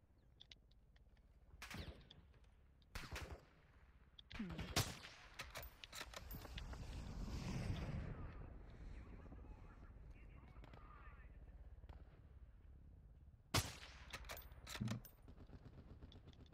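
Gunfire in the video game Modern Warfare 3 DMZ sounds as several sharp, separate shots and short bursts spaced through the scene, some close and loud, others more distant, with players talking between them.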